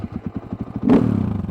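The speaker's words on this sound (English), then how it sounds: "Let's just get this bike turned on." KTM EXC 450 motorcycle engine turning over with a rhythmic cranking chug, then catching at once into a loud, close, steady idle rumble.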